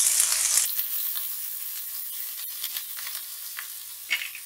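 Ginger frying in hot oil, as for Amritsari chole masala, crackles with a bright, dense sizzle that starts loud, then settles into a softer, steady hiss with scattered pops and a stir scrape near the end.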